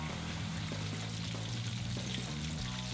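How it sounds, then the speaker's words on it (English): Tofu pieces deep frying in hot canola oil, a dense, steady hiss of bubbling close up with a faint low rumble underneath, no talking. "I'm just going to place in the pieces very gently and fry them for about 10 minutes."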